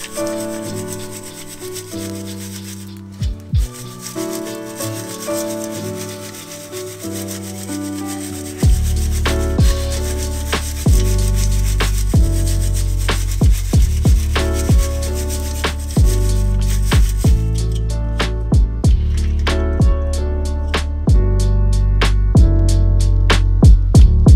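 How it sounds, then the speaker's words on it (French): A sieve is shaken to sift fine, almost dusty bonsai substrate over sown maple seeds, giving a close, loud, continuous gritty rubbing and rattling with rhythmic scraping strokes that grow more regular toward the end, with no talking. "là je suis en train d'agiter le tamis et vous voyez que ça génère en sortie un substrat extrêmement fin, presque poussiéreux"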